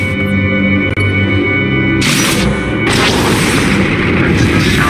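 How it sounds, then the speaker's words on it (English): Flux cannons blasting a capital ship in the space battle game SWTOR, heard as loud, continuous rumbling barrage with heavy booms and bursts landing around the two- and three-second marks. "That's the sound of my flux cannons incinerating one of your capital ships."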